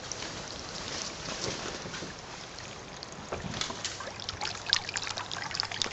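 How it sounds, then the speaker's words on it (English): A pump fills a flood and drain greenhouse table, giving a soft, steady trickle and gurgle of running water, faint and continuous, with a slightly louder splash toward the end. "the pump is now turned on"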